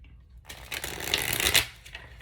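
Tarot cards are shuffled close up in one quick riffling burst of papery flicks lasting about a second, set against near silence.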